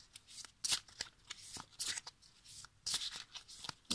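Tarot cards are shuffled by hand in quick irregular bursts of riffling and sliding, close and crisp, with no talk.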